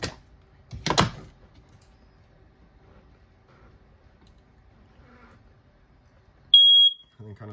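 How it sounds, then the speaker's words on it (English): A single short, shrill electronic beep from a smoke detector in a 2022 Forest River Tracer 260BHSLE travel trailer sounds once, preceded by faint clicks and rustling in an otherwise quiet room. "Smoke detector."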